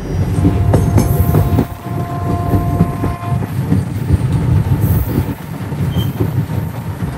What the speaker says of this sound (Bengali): 2 মিনিটের মধ্যে ট্রেনটা ছাড়লো